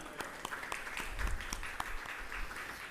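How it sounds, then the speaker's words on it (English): An audience at a university journalism award ceremony claps for the director of ceremonies, a continuous patter of many hands with distinct sharp claps standing out, heard at a moderate, slightly distant level. "Let's give our Director of Ceremonies a round of applause."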